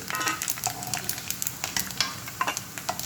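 Coconut pieces frying in hot oil for a Kerala-style beef dish, a continuous bright sizzle broken by repeated scraping and clinking as a ladle stirs and scoops them out of the pan.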